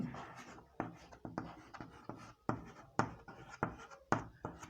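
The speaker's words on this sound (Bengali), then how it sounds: "এখন একটা জিনিস খেয়াল করে দেখো, আমি কিছু ওয়ার্ড লিখছি।" Writing by hand during a physics class, a series of irregular close scratchy strokes and taps, each quick and distinct with brief gaps between, faint and alone without speech.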